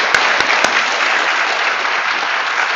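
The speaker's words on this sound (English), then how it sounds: "We have one more small round of applause for such a wonderful," A commencement ceremony crowd gives a round of applause, loud steady clapping from many hands throughout, with a couple of sharp knocks near the start.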